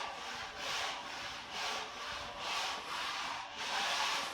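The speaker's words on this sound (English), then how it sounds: "Using the sanding blocks and the Sureforms and doing all this by hand" Rhythmic back-and-forth rasping of sanding blocks worked by hand along the foam rails of a surfboard, about eight even strokes in steady cadence, close and moderately quiet.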